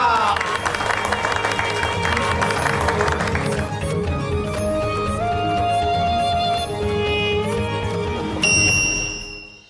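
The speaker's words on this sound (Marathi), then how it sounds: "टाळ्या." An audience at a spiritual discourse bursts into applause and cheering that fades under rising musical tones, with the clapping thinning out over several seconds before a final swell.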